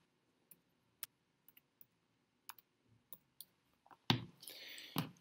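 Sparse, light taps on a phone screen while entering a code-card number, a dozen or so irregular clicks in a quiet room, followed by a louder burst of rustling handling noise.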